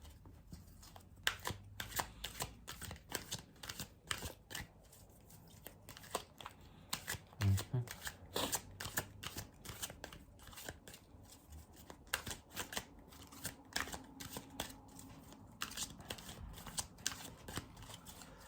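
An oracle card deck is shuffled by hand. It makes a quiet, close run of crisp riffling clicks and soft slaps that repeat in uneven bursts, with a faint murmur now and then.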